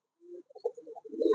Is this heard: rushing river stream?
no